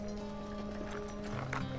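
Horses plod along in a Western drama, hooves clip-clopping softly beneath a sustained musical tone.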